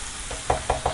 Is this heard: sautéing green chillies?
yes